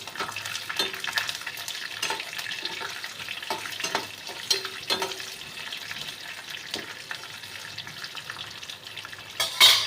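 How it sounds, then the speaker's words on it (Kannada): Dry and green chillies crackle with curry leaves in hot oil for vermicelli upma, a quiet, steady sizzle with light stirring scrapes and a louder burst near the end. "1-2 ಒಣಮೆಣಸಿನ್ಕಾಯಿ, 1-2 ಹಸಿರು ಮೆಣಸಿನ್ಕಾಯಿ ಹಾಕ್ಬಿಟ್ಟು ಫ್ರೈ ಮಾಡ್ಕೊಳ್ಳಿ."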